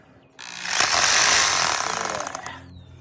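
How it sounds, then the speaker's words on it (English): Rotary hammer drilling into rocky ground while setting a metal fence post, a loud rapid hammering burst starting abruptly and running about two seconds before easing off, close by. "This is what is this? Rotary hammer."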